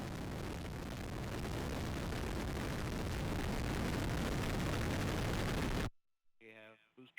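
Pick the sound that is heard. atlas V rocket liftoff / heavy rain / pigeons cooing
atlas V rocket liftoff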